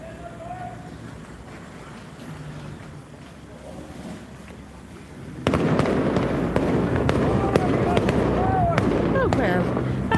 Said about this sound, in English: I've got a touch of fireworks.